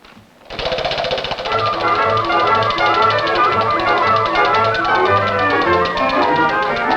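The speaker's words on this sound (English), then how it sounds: "One of you spin the wheel." A game show prize wheel spinning, with a rapid ratcheting clatter of clicks that starts abruptly after a short silence and carries on steadily and loudly.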